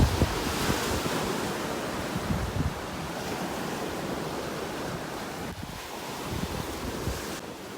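Steady wind roars across the microphone over the continuous wash of surf breaking on a beach in North Naples, Florida, loud and unbroken throughout.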